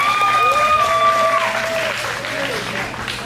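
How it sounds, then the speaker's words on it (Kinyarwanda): Applause from a crowd at a graduation party for a speaker named Cloud, dense clapping over a voice talking at the start, then thinning slightly as it continues. "Amashyi menshi cyane kuri Cloud."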